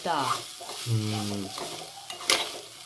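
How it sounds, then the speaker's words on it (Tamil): Pongal is stirred in ghee in a pan, giving a soft sizzle and scraping close up, while a voice talks over the cooking sounds. "நல்லா அந்த நெய்யில் வந்து கிண்டி விட்டுருவேன்"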